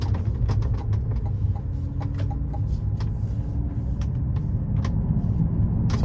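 A 2023 GMC Hummer EV Pickup Edition 1 rolls along a back road, producing a steady low rumble of road and tire noise inside the cabin with faint intermittent clicks and knocks, and no engine roar.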